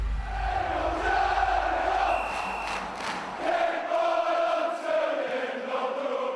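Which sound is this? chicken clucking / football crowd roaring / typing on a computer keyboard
football crowd roaring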